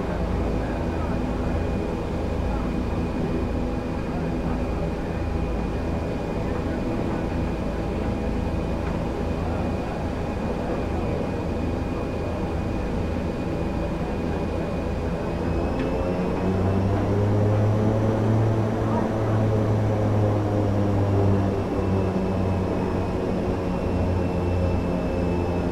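Twin turboprop engines of an ATR 72 airliner spool up for takeoff in Microsoft Flight Simulator 2020: a steady, loud drone with a rising whine and deepening low roar as power builds, with faint cockpit chatter in the background.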